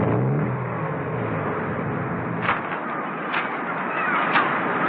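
A car engine hums steadily at moderate loudness as the vehicle climbs a cliff road, with a few brief higher accents near the end as it slows to park; no voices are heard.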